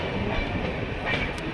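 A superfast sleeper train runs toward Haripad railway station, a close, continuous rumble and rattle of wheels on track with a brief high squeal near the end, no talking.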